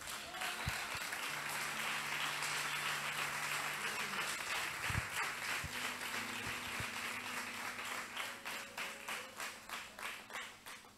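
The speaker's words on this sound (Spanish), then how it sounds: "¿Cuánto le aplauden al Señor?" Church congregation applauding, a broad steady wash of many hands clapping that carries on for about eleven seconds and slowly thins toward the end, with brief low thumps scattered through it.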